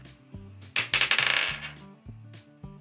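Dice rolled during a crochet stash-busting session, a quick burst of clattering tumbles that rattles loudly for about half a second and then settles, with a soft tonal hum in the background.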